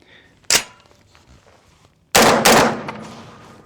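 Two loud gunshots ring out at an outdoor range during magazine testing with a Mean Arms magazine, a single sharp crack followed after a pause by a second, longer blast with echoing tail.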